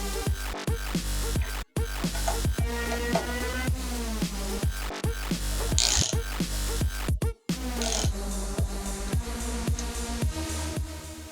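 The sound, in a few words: unscrewing nut on Yamaha WR450F rear shock absorber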